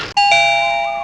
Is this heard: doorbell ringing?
yes